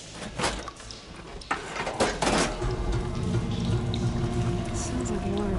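Running water in Horizon Forbidden West after a valve is switched, rushing and splashing with a few sharp bursts early on before settling into a continuous steady flow.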